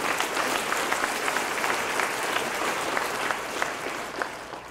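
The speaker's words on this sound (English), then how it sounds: "Let's give Zach a big round of applause." A crowd at a college baseball banquet applauds warmly, dense clapping filling the space at a steady level before easing slightly toward the end.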